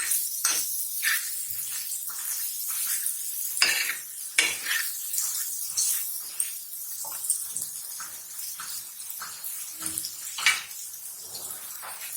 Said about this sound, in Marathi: तर स्मॅशरच्या साहाय्याने हे चांगलं असं मिक्स करून घ्यायचं